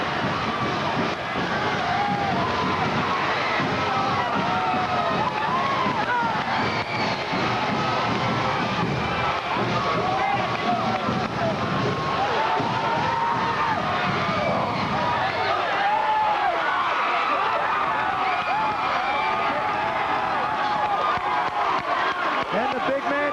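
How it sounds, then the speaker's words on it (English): A dense, loud high school basketball crowd roars and cheers as fans swarm the court after Champlin Park's one-point win over Anoka, with an announcer talking over the constant din. "all Anoka can do is sit and watch as the crowd swarms the court"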